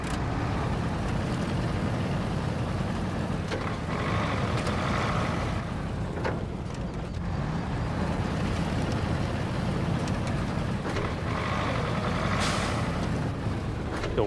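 A heavy truck rolls down a mountain in the Expeditions off-road driving game, a steady rumbling engine drone with occasional hissing air-brake bursts and mechanical clunks, with no talk.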